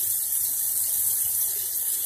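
Cold tap water runs continuously from a faucet in Flint, Michigan, making a steady, even hissing splash with no breaks and no talking.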